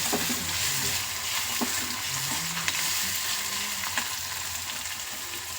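Paneer fries in a pan as it browns, giving a continuous close sizzle with occasional light clicks and stirring scrapes, steady in level and without speech.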